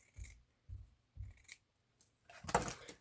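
Scissors cutting through florist's ribbon material, several short crisp snips in a row, close up, followed by a louder rustling cut at the end.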